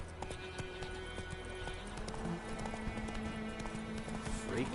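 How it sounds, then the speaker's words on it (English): Horse hooves clip-clop steadily in The Witcher 3, a quiet rhythmic trot of repeated hoof strikes, with faint game ambience underneath and no talk. "Whoa there, Roach."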